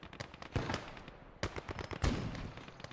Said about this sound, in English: there is an AT rifle here that is now effectively hitting him